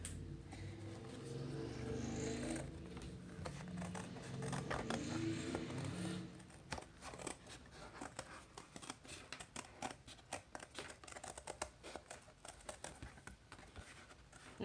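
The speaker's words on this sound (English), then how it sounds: "Next thing I'm going to do is cut out this slice of cake." Scissors cut slowly and gently through paper to free a cake-slice shape for a collograph art lesson. Soft snips and scrapes come in a close, quiet, irregular run, with rustling handling noise in the first few seconds.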